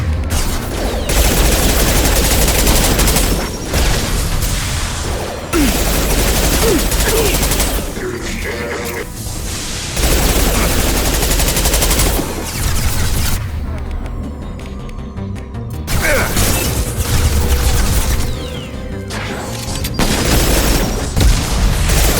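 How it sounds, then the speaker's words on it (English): Rapid machine pistol gunfire in the video game Mass Effect 2, heard as loud, dense bursts of automatic shots with short pauses between volleys, mixed with booming combat effects throughout. "I need to switch to my machine pistol."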